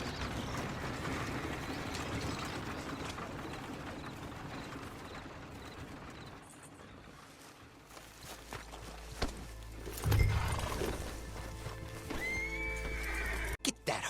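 Horse neighing with clip-clopping hooves in the Red Dead Online video game, set against busy ambient game sounds that fade out, then a whinny bursts out near the end followed by sharp clicks.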